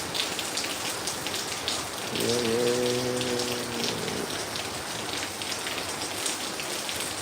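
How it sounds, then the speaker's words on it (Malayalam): At night in Kozhikode, monsoon rain falls steadily and evenly for the whole stretch with a light breeze, and a brief low hum comes through partway. "മഴയോ മഴ മഴ മഴ മഴ"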